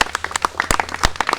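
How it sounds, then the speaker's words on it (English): Brief scattered clapping from a small audience at a Brooklyn housing press conference for the Borough President, with sharp, uneven, close hand claps and a murmur of voices underneath. "he deserves a big round of applause for his leadership on that"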